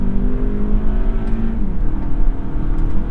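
A 2021 Lexus ES 250 AWD F Sport with a naturally aspirated four-cylinder engine pulls hard from a standstill, its steady droning engine note rising gradually in pitch, loud and close from inside the cabin.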